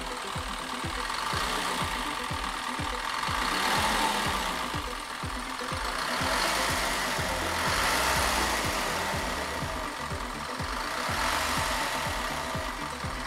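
An Isuzu 4HL1 diesel engine in an NPR Pro steel tipper truck idles with a steady knocking chug, swelling in a few slow revs and settling back, heard close with no talk.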